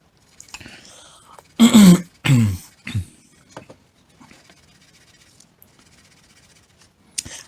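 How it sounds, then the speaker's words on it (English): Two or three short, forceful throat clearings close to the mic, followed by quiet rustling and a faint click near the end. "I do apologize for clearing my throat"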